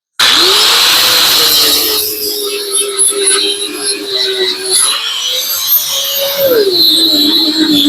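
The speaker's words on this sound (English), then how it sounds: "More grinding, guys." Power grinder working a welded metal patch, a loud steady whine that starts abruptly, then dips and rises in pitch as the disc bears down and eases off against the steel.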